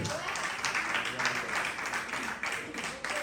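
A church congregation breaks into steady applause, a dense wash of clapping with voices mixed in, holding for a few seconds without a break.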